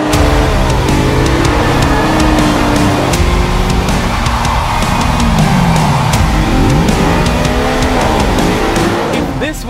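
Audi RS5 with a 2.9-liter twin-turbo V6 driven hard: loud engine revving with rising and falling gear sweeps, tire squeal and skidding, a voice speaking over it.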